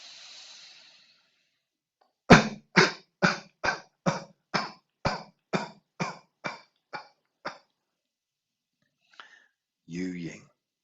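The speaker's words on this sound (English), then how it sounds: "we're going to start coughing out for one breath" Twelve sharp, forceful coughs pushed out in a steady rhythm during a breathing exercise in a healing class, close and loud, followed by a few soft breaths and a short exhale.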